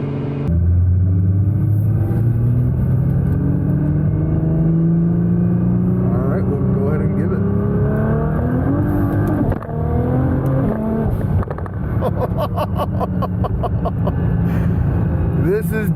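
A 1400 HP Nissan GT-R engine revs hard and loud while driving, rising through gears with steady roaring, a brief dip around mid-way, and rapid crackling pops toward the end; people talk over it.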